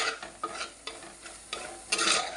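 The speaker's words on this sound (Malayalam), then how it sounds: "അതിൻ്റെ കൂട്ടത്തിൽ നമ്മുടെ മഞ്ഞൾപ്പൊടിയും കൂടെ ഇട്ട് നല്ലതായിട്ട് ഇളക്കി കൊടുക്കുക." Chili and turmeric powder are stirred in a hot pan for a Kottayam-style fish curry, with several short, close scraping strokes over a light sizzle.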